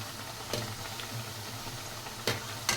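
Black urad dal snack dough frying in hot oil, a steady soft sizzle with a few sharp crackles and pops near the end.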